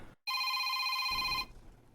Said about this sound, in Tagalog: Dunay nanawag.